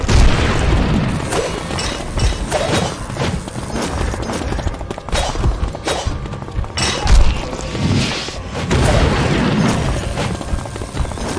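Enemy laser fire in the game Asura: Vengeance, a continuous dense barrage of booming, crackling blasts and thuds that runs loud and unbroken from start to finish, with no voices.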